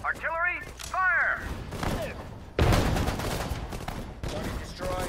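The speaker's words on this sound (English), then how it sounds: "Artillery ready. Artillery, fire!" Artillery fires in the World War II strategy game Sudden Strike 4 during the Iwo Jima invasion: a heavy, loud blast bursts in mid-clip and rumbles on, after short radio-style voice lines are spoken.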